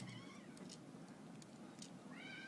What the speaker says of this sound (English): Excuse the cat meowing in the background.